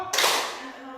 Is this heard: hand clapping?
yes